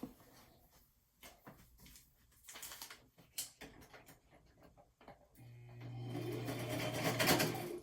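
Scattered clicks and taps give way to a sewing machine stitching scrap paper, running in a steady whirring burst for a couple of seconds, fairly quiet.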